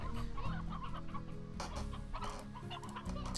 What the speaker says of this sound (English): there's actually a rooster in there already